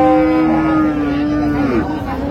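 A Sahiwal cow at a village cattle market in Dinajpur moos loudly and close by, one long sustained low call with a falling pitch toward the end, heard alone with no talk over it.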